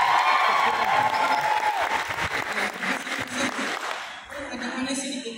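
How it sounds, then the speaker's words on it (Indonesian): An audience at a seminary student commissioning service in Jakarta claps loudly and steadily for several seconds, with crowd voices mixed in before the applause thins out. "kenapa tepuk tangan?"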